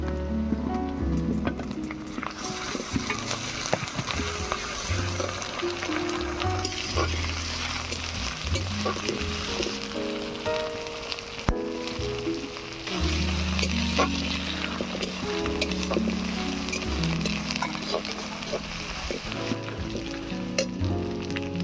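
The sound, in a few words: chopped onion and ginger-garlic paste frying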